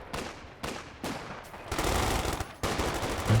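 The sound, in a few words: Vickers machine gun firing in video game Company of Heroes 2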